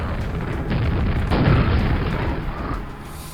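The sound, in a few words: grenade explosions in Quake video game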